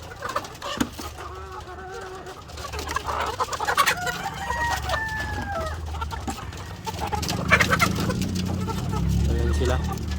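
Heritage breed cross pullets cluck and murmur in a farm flock, with a few drawn-out calls and a rooster-like crow rising over steady low background noise.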